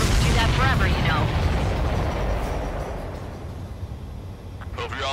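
Explosions in the flight combat video game Ace Combat 7, a heavy rumbling boom that swells at the start and slowly fades into a lingering low roar with faint crackles.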